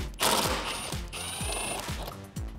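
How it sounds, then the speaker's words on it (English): A 10mm socket ratchet turning out a bolt from the air box of a 2018 Jeep Wrangler JL 3.6L, rapid clicking ratchet strokes repeating at a steady pace, close and fairly quiet. "So I'm going to use that 10mm socket again"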